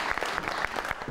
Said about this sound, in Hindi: आई जी बहुत सारी तालियों में सोफिया मिर्ज़ा।